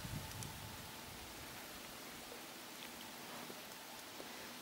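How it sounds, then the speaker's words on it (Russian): Light rain falling outdoors beside a river during a fishing trip, a soft, steady hiss of drops with a few faint distinct patters, quiet and even throughout with no voices. "Ну вот и дождик начался."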